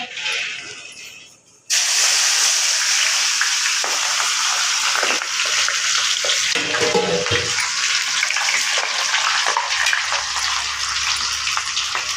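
Loud, continuous hissing sizzle as bitter gourd slices drop into hot oil and fry, with a brief clatter midway.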